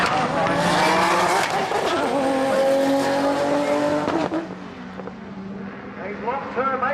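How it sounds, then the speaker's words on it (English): HKS drag race car launching off the start line, a loud roar with tyre noise that fades as it pulls away, under an announcer's commentary. "The car hooking up on the start line."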